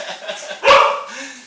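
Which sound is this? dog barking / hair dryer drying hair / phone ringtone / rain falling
dog barking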